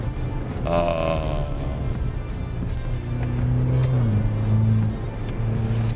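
A Maserati Levante GT Hybrid with a four-cylinder hybrid powertrain accelerating, its engine and exhaust droning steadily with a rising tone near the start, sustained and fairly loud for several seconds.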